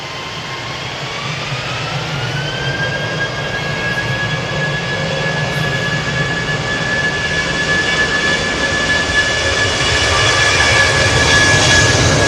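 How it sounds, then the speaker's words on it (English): A British Airways Airbus A319 jet passes at Manchester Airport, its engine roar steady and loud with a rising whine tone, swelling gradually as it draws nearer over about twelve seconds, with no voices. "British Airways A319 on the way"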